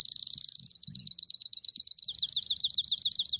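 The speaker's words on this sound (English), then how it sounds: "specifically the swamp sparrow." Swamp sparrow song: a rapid, steady trill of repeated chirped notes, close and clear, running throughout with only faint low rumble beneath.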